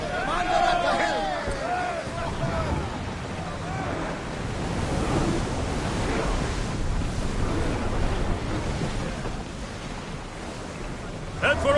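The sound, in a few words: ship sailing through ocean waves, from video game Assassin's Creed Odyssey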